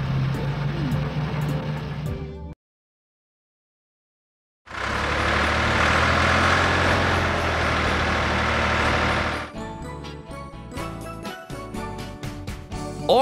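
Garbage truck engine rumbling loudly and steadily, broken by a brief silence, then resuming before giving way to clattering mechanical sounds, with no talking.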